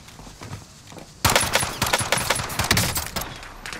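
Rapid bursts of gunfire crack out in a battle royale game after a quiet start, loud clustered shots continuing to the end with no talking.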